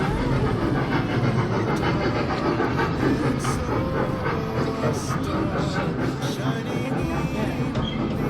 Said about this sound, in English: A choo-choo train.